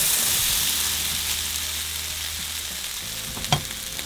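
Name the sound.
potatoes and carrots frying in hot oil in a pan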